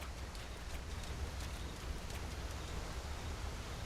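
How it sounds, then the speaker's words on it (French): A waterfall in Monster Hunter World pours as a steady, faint hiss of rushing water, an even broadband wash with no break throughout. "C'est la cascade qui fait ce bruit-là ou il y a autre chose? Non, c'est la cascade, j'ai l'impression."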